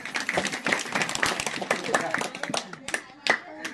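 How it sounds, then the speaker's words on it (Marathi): A home audience at a game-show style gathering claps loudly and unevenly, dense overlapping hand claps running throughout, with voices talking over the applause. "टाळ्या वाजवा जोरदार"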